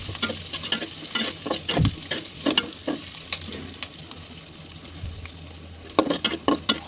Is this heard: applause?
no